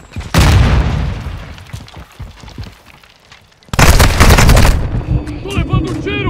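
Semtex grenade blast followed by heavy gunfire in a Call of Duty: Modern Warfare 2 multiplayer match on the Embassy map, with two loud bursts of booming explosion and rapid shots separated by a quieter stretch of scattered fire and faint voices.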